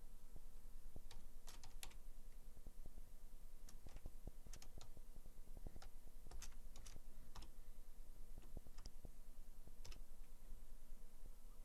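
Computer keyboard typing on a steady run of keystrokes, irregular clicks and small bursts spread across the whole stretch, fairly close over a faint constant hum, no voices.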